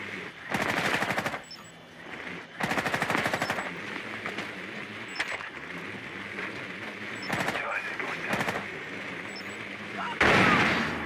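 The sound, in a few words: gunfire in the video game Rainbow Six Siege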